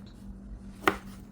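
A single sharp knife chop through baby carrots on a cutting board, one crisp near tap over a faint steady hum.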